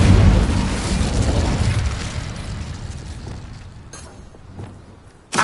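A fiery Incendio spell cast in the video game Hogwarts Legacy bursts out with a loud, boomy blast that rumbles and slowly fades over several seconds, ending with a sharp pop.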